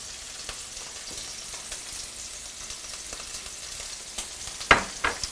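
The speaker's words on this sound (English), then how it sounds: "you can hear that pork sizzling" Pork sizzles steadily in a hot pan, a soft crackling hiss with a few sharper spits and clinks near the end.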